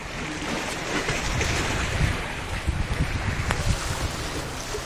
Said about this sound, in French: On s'écarte des vagues là, on est assez loin.